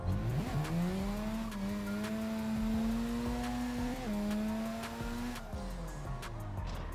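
A drift kart at high speed in Assetto Corsa has its handbrake ripped, letting out a loud, sustained tire squeal whose pitch rises, holds and wavers before sliding back down, all over a steady engine drone.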